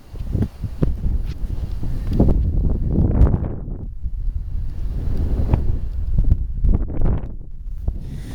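Strong wind buffeting the microphone on the South Jetty dunes and beach of the Oregon coast, gusty roaring bursts rising and falling throughout with no talk.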